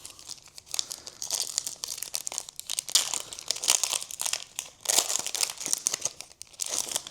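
A Topps NBA 2025-26 mega box pack wrapper is torn open and crumpled, giving close, crisp crinkling and tearing in irregular bursts, with no one talking.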